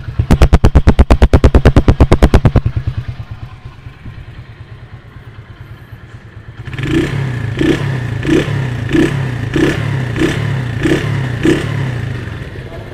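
A Honda Win 100 motorcycle engine fitted with a new exhaust muffler runs close by. It gives a fast, loud, even popping at first, then drops to a quieter idle, then settles into a slower, deeper, gunshot-like thumping.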